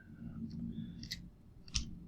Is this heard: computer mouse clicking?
yes